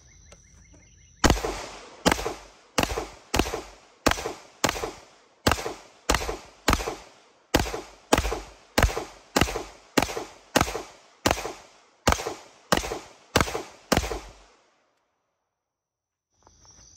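About twenty rapid 9mm shots from a Staccato XL pistol firing 115-grain rounds at a vest, sharp loud cracks in an irregular quick rhythm with brief pauses, fairly close and free of talk.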